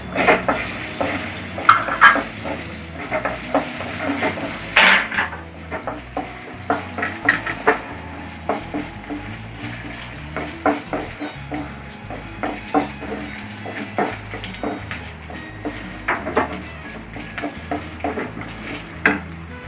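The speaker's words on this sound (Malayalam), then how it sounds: "ഇനി അതിലേക്ക് നമുക്ക് നാളികേര കൊത്ത് ആദ്യം ഒന്ന് ചുവന്ന ഒന്ന് വറുക്കാം" Coconut pieces sizzle and crackle frying in hot ghee while a spoon repeatedly scrapes and stirs against the pan, with clinks throughout.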